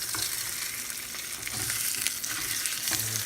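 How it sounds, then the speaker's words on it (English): Salmon sears in a hot pan with a loud, continuous crackling sizzle up close, steady from start to finish with faint pops and a small knock of the pan near the end. "I'm going to get a little bit of a sear on it"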